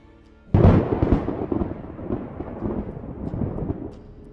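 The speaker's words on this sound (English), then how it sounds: "lightning struck a tree near the parking lot" Lightning strikes a tree near a school parking lot: after a brief quiet, a sudden loud crack of thunder bursts out, then rolls and rumbles, slowly fading over several seconds.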